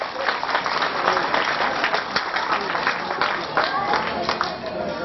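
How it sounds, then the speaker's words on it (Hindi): A crowd applauds loudly and steadily at a school annual function, dense clapping from many hands sustained for a few seconds. "तालियों से जोरदार इनका स्वागत करें"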